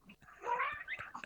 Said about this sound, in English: Cat's back to say hello